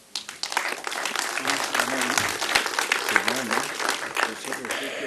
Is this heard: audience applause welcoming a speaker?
yes